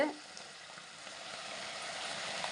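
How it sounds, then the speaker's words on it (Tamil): Ivy gourd (kovakkai) being sautéed in a pan makes a faint, even sizzling hiss for a couple of seconds. "இப்போ வந்து கோவைக்காய் வந்து நல்லா வதக்கிக்கலாம் நல்லா வதங்கட்டும்"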